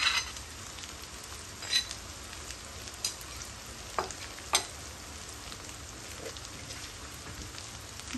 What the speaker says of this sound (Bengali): পেঁয়াজটা যখন একটু সফট হয়ে আইছে তখন আমি দিলাইমু 1 টিস্পুন আদা পেস্ট, 2 টিস্পুন রসুন পেস্ট